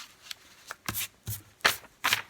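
Paper luminary bag folded lengthwise along its long 11 3/4 inch side, a series of soft, dry crinkles and brushing rustles in short bursts, fairly close and quiet with no voice.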